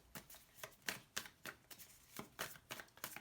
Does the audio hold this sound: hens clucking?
no